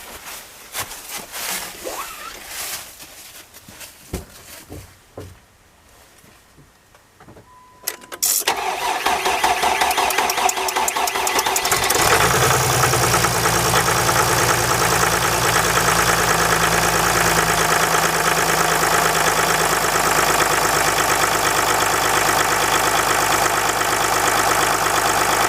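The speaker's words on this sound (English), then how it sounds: "So I'm going to start up the vehicle." A 2005-2010 Jeep Grand Cherokee WK CRD with the OM642 diesel and a bad glow plug cranks sluggishly after a quiet stretch, then catches and settles into a loud, steady diesel idle up close.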